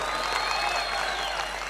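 An audience at a Makkal Needhi Maiam political speech on an election manifesto breaks into sustained, dense clapping that holds at an even level, with a faint crowd murmur underneath.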